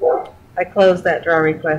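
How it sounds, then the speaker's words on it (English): A dog barks and yips in a quick run of short, loud, close bursts while a person speaks over it. "Sorry about my dog."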